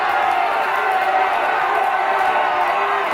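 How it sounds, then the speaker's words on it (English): Spectators at an indoor junior European finswimming championship roar and cheer in support of the swimmers, a loud, sustained wash of crowd noise echoing through the venue. "The crowd is roaring in support."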